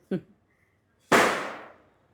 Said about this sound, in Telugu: టపాసులు అయితే సౌండ్లు వస్తూనే ఉన్నాయండి